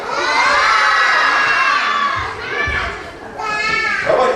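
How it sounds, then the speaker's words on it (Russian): Crowd of children at a New Year party in a house of culture shouts together, loud and high-pitched, in two or three swelling bursts with short dips between them. "Громко крикните ответ."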